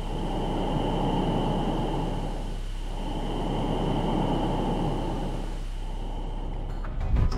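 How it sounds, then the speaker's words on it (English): Soft, breath-like hiss of plasma orbiting Earth, recorded by NASA's Polar mission, a steady wash of noise that swells and dips gently in slow waves. "NASA's Polar mission, which was launched a few decades ago, managed to record this breath-like hiss."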